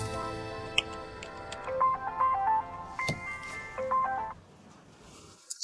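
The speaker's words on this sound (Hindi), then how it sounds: "टीचर लिन का फोन आया है।" A phone ringtone plays a bright electronic melody of short repeated tones, clear and fairly loud with a brief lull partway, in an indoor domestic scene.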